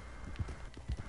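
Faint, soft horse hoofbeats in Red Dead Redemption 2 clop in a steady, even rhythm, muffled under low background hiss.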